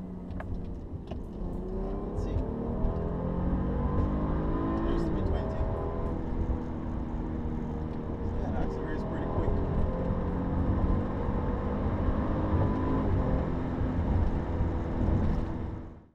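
A 2014 BMW X5 sDrive35i M-Sport engine pulls under acceleration, a steady rising drone heard from inside the cabin with someone talking over it throughout.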